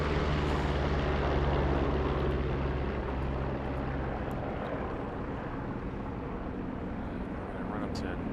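A P-47 Thunderbolt radial engine runs up steadily in a flight simulator, a loud continuous low drone with a sustained hum that holds through the stretch, while a voice talks over it.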